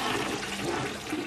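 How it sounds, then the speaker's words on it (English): A toilet flush from the film Blue Velvet, a loud, continuous rushing gush of water that fills the whole moment without any voices. "He flushed the toilet that sounds like it's like shooting a rocket off or something."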